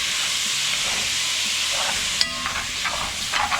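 Bacon frying in a pan for shrimp and grits, giving a steady, loud sizzle and hiss throughout, with a few faint scrapes and clicks as the pieces are moved about.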